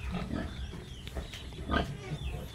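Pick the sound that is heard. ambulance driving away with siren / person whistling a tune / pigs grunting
pigs grunting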